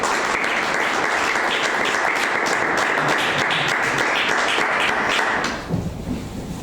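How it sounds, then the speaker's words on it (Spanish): Loud, dense applause from a conference audience after a speaker's introduction, steady for about five seconds before stopping abruptly into room quiet. "os pido, por favor, para ella un aplauso."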